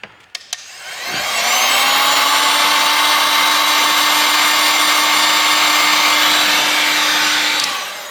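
A heat gun is warming the screen of a Vortex CB68 phone for removal. After a few clicks it starts up with a loud, steady blowing whine that holds for about six seconds and then cuts off, with no voices.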